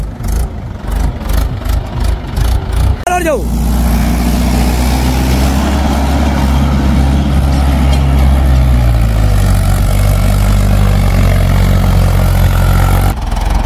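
Mahindra tractor engine off-roading in desert sand near Pushkar, a loud steady diesel drone and rumble that holds for many seconds after a brief shout and some rustling at the start.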